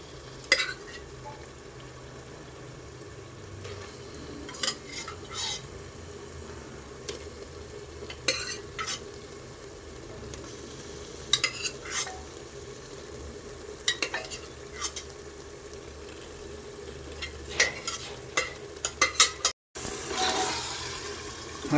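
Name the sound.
stirring and frying mutton biryani masala in a pan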